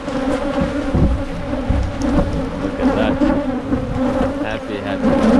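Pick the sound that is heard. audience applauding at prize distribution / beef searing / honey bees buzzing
honey bees buzzing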